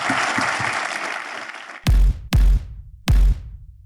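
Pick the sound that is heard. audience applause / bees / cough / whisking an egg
audience applause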